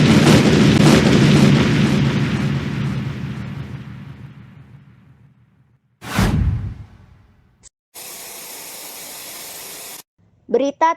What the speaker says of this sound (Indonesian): Gedung ini akan meledak sebentar lagi.